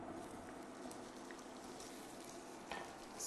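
Bacon rendering in a frying pan gives a steady, dense sizzle and crackle throughout, close and moderately loud, with a few brief louder pops and no talk.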